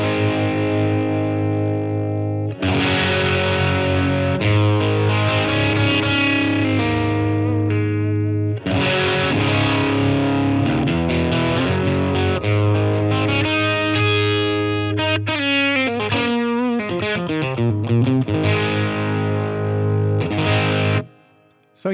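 Distorted electric guitar played through a Line 6 Catalyst amp on its dynamic channel, loud and sustained with chorus-like shimmer, chords ringing for about twenty seconds before cutting off.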